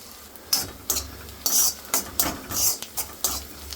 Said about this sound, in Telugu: ఆనియన్స్ మరీ ఎక్కువ ఫ్రై కూడా అవ్వద్దు.